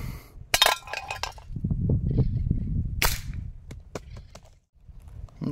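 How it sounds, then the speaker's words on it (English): A Hatsan AirTact .177 air rifle fires and pellets strike ice with sharp cracking, clinking impacts, two prominent hits about two and a half seconds apart followed by smaller ticks and rustling. "So let's shoot the ice with it."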